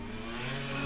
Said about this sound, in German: fuhr gerade im Motorrad vorbei.